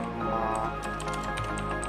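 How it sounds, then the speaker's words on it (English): Fast, continuous keystrokes clatter on a computer keyboard during coding, close and steady throughout. "typing."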